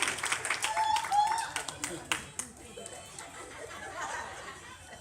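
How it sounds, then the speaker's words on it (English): Studio audience clapping at a talk show as a guest comes out, a steady crowd patter with some chatter and laughter mixed in, moderately loud throughout with a few sharper bursts. "Clap your hands."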